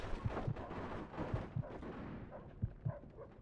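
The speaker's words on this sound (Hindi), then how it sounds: "ये सामने वाले गेट से गोलियाँ चल रही है।" Gunfire in the video game Mafia 2: three pairs of sharp, punchy shots spaced about a second apart, loud and close over a busy background of game noise.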